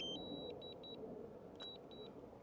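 Several short electronic beeps from a DJI Mini 2 SE drone controller as return to home is triggered, clear tones in quick groups over a low outdoor rumble.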